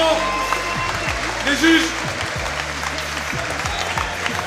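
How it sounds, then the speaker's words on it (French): Audience applause at a combat sports event while fighters await the judges' decision, a continuous clapping wash under a French announcer's amplified voice. "On peut encore les applaudir très très fort en attendant la décision"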